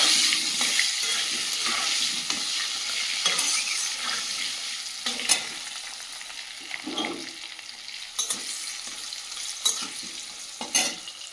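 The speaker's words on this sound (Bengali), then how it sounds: "আলুটা ভেজে তুলে নিয়েছি" Potato pieces lightly frying in oil seasoned with salt and turmeric, a soft continuous sizzle broken by intermittent stirring scrapes, close and fairly quiet.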